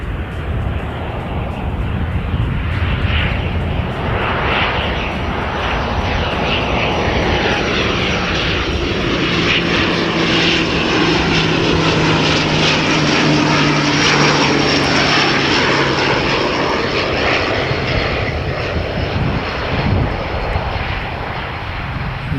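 A propeller airplane arriving from Napier comes in to land, its loud engine drone steady throughout as it passes nearby, with shifting tones and no voices.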